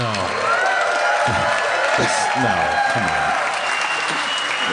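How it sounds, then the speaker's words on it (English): A live audience at a comedy podcast taping during a comic book convention applauds and cheers steadily throughout, with brief talk from the stage over the sustained clapping. "I just sit here and I get applause."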